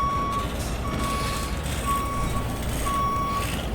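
Fire truck reversing into a firehouse in the EmergeNYC firefighting game, with a regular high backup beep sounding at steady intervals over a loud, constant diesel engine rumble.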